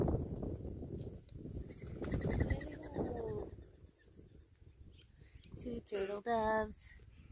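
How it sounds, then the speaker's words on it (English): Clay-colored doves coo on a hiking trail in California's San Bernardino Valley, a few soft, hollow calls rising near the end after nearby people talk over rustling trail ambience. "We like it when the doves are around us."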